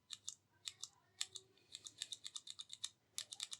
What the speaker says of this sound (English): As you can see, nowhere near as loud as the clicky keys, but it still has that little bump as I press down.